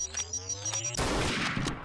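Rapid automatic gunfire from a weapon in the Trouble in Terrorist Town game, a dense burst of repeated shots filling the second half, preceded by tonal game sounds and music.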